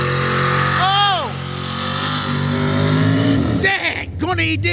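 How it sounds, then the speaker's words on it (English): Farm tractor engine roaring at a tractor pull, loud and sustained with rising and falling revs, while spectators talk and shout over it. "That's because it's a new tractor."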